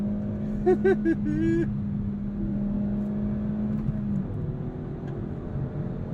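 A 2023 Kia Forte GT accelerates on the road, heard from inside the cabin as a steady engine drone with a constant hum and road noise, plus a brief higher tonal warble early on.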